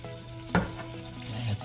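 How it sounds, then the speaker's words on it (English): A whisk works a milk sauce in a pan before the cheese goes in: soft, faint scraping and swishing, with one sharper knock of the whisk against the pan near the start. "So I'll just keep whisking this."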